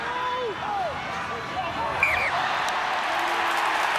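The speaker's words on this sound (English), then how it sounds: "Oh, the crowd love it." A rugby league crowd roars at a Penrith Panthers versus Melbourne Storm NRL match. The steady broad cheer carries on for the whole clip, with tonal whistles and commentator speech riding on top of it.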